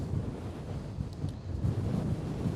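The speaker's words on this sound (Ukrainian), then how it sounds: "Вітряно, просто капець." Strong wind on the Atlantic coast at Lagos, Portugal, buffeting the microphone in low rumbling gusts, with a hint of ocean surf behind it.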